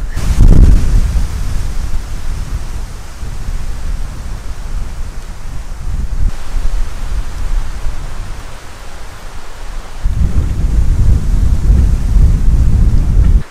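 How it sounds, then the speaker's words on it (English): Strong gusting wind before a thunderstorm roars steadily into the microphone on a farm, swelling louder near the start and again toward the end, with no voices. "Some serious wind has picked up and the storm clouds are coming in really quickly"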